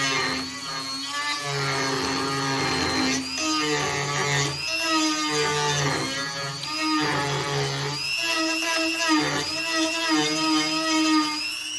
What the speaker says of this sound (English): To do that, I'll just use a Dremel.